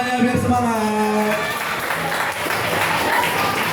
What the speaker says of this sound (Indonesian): tepuk tangan semuanya biar semangat